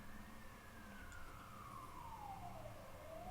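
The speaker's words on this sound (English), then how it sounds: "The good old ambulance sound in the background, I love it." Ambulance siren on a street in Budapest, a single long wailing tone sweeping slowly downward, distant and faint beneath steady room and traffic background noise.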